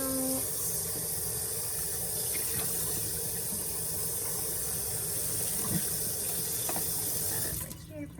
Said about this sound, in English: Alright, let's rinse this out.